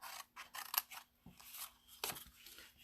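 Scissors snip through paper while cutting out pieces for a paper treat chest, a run of short, crisp cuts that come close up in quick bursts with brief pauses between them.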